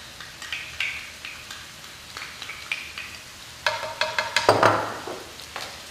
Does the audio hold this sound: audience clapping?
no